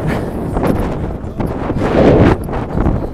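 Strong wind buffets the microphone at an outdoor car show, a loud continuous roar with rumbling gusts and no voices.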